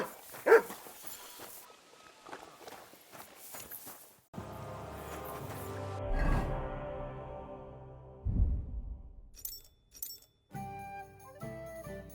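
A dog barks in the medieval role-playing game Kingdom Come: Deliverance 2, a few separated woofs at first, then mid-distance barks over a low ambient bed.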